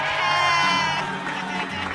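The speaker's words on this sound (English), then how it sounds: "let's first give him a round of applause" Live studio audience at a comedy podcast taping welcoming a call-in guest: loud whooping, cheering and shouting from a crowd with clapping underneath, fading down toward the end.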